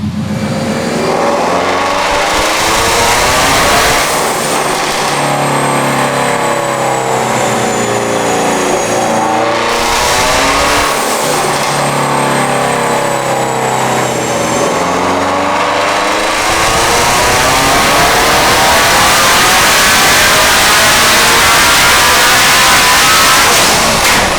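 An 800 hp twin-turbo Shelby GT350 with a Hellion turbo system on 93 octane, running on wastegate-only boost, roars through long, very loud revving pulls close by, its pitch sweeping up and dropping between runs.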